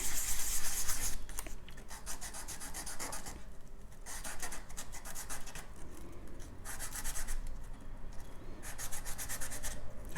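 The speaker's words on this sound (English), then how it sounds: "take my sanding stick from earlier and sand down any sharp edges." Repeated rasping strokes of a sanding stick rubbing against the edge of porcupine quill earrings, close up, in short bursts with brief pauses between.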